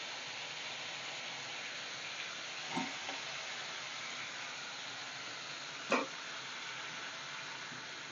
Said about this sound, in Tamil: தக்காளி சேர்த்து வதக்கிக்கலாம்